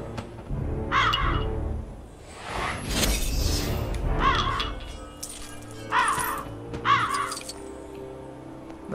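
A crow cawing in the video game LEGO The Hobbit, several harsh repeated caws in separate bursts over game background sounds, with a whooshing swell in between.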